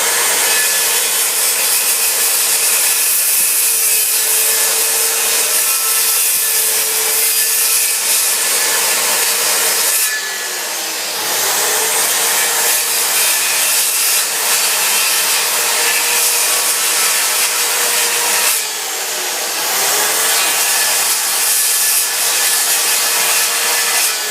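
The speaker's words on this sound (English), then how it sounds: "You're going to take your saw, and you're going to rock the saw." A hand saw cuts through a cedar tree to make trim, a close, continuous rasping of rhythmic strokes with two brief pauses partway through.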